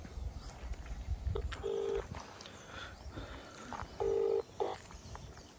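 Telephone number being dialed on a keypad: two separate steady electronic touch-tone beeps, each about half a second long, stand out against quiet room noise, with short pauses between them.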